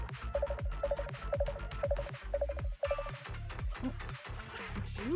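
A phone ringing in Zenless Zone Zero, a repeated electronic ring tone pulsing in an even rhythm, a burst roughly every half second, over a low musical bed.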